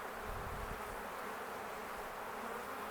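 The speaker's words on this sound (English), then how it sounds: "there's a couple of bees in there" Steady, dense buzzing of honeybees during a beehive inspection at an apiary, close and continuous throughout, with no other sounds.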